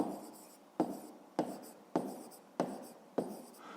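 A maths solution being written by hand, with a pen or pencil making a steady series of about six short, scratchy strokes on paper, quiet and close with no talking.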